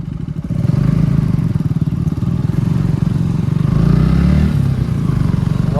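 Three KTM motorcycles rev and run off-road in a forest, their engines loud, close and steady for the whole stretch, with rattling clatter underneath.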